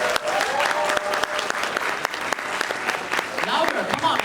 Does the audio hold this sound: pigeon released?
no